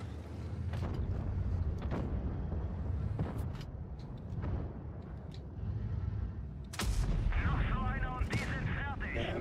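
Heavy gunfire in a video game, a continuous booming roar punctuated by sharp cracking reports, loud and close throughout, with a voice intermittently in the mix.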